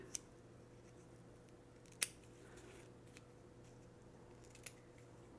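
Scissors snip pieces of Velcro in a quiet room, with three sharp, isolated cuts spaced a couple of seconds apart over a faint background hiss.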